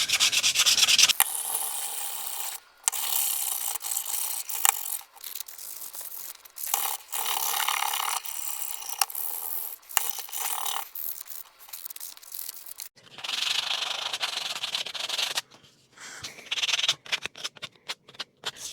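Hand sanding of a wooden woodworking project with fine-grit sandpaper: steady, close rasping strokes in repeated bursts with short pauses, loud and alone.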